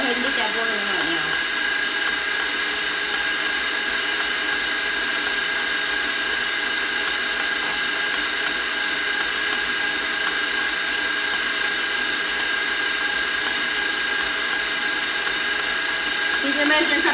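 Steady, loud rushing and bubbling like water boiling hard in a pot, continuous throughout with no pauses.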